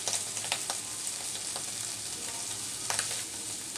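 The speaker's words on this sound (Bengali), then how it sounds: "এই তো আমি চিংড়ি মাছ ভাজার পুরটা নামিয়ে নিচ্ছি।" Shrimp filling for potato chops fries in a pan, giving a bright, continuous sizzle up close with several sharp stirring clicks and scrapes.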